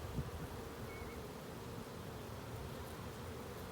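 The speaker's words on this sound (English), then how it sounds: "Hello bees, we're here." Honeybees buzz steadily at a beehive, a continuous close drone of many insects holding an even level throughout, with no voices.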